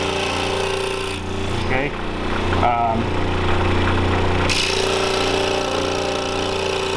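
A power saw cuts a wooden template for a bow saw, its steady motor whine running throughout with brief changes in pitch as the blade works the wood, loud and close, with a short spoken word over it.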